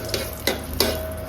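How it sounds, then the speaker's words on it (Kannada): Chillies frying in a pan, a steady sizzle with three sharp scraping stirs of a utensil against the pan, close and alone without talk. "ಮೆಣಸಿಕನ್ನ ಸ್ವಲ್ಪ ಬ್ರೌನ್ ಕಲರ್ ಬರೋ ತನಕ ಫ್ರೈ ಮಾಡಿ."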